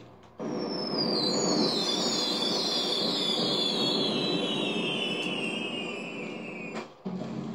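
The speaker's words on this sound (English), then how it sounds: "They do fireworks." A long whistling firework rocket in a video game screams, its pitch sliding steadily downward over several seconds above a dense crackling roar, then cuts off abruptly.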